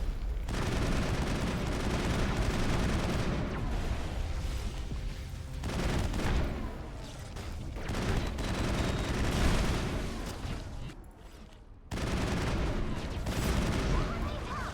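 Dense, continuous gunfire in the video game Mass Effect, with steady rapid shots and booms running through the whole stretch, briefly dropping out near the end before resuming loud and close.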